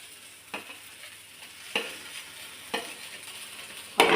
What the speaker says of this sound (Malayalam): ഇളക്കി ഇത് യോജിപ്പിക്കുക